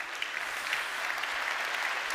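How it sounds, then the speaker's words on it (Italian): Applause from a conference audience at a business association's general assembly, welcoming directors onto the stage; steady, dense clapping throughout, moderately loud and without voices. "Li possiamo accogliere anche con un applauso."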